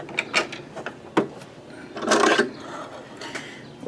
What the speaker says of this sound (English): I'm putting in my bobbin